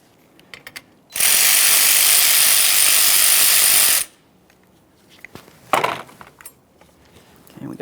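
A close, loud ratchet whirs continuously for about three seconds, loosening the 10mm battery hold-down nuts on a 2009-2014 Nissan Maxima, followed by a few scattered clicks and knocks.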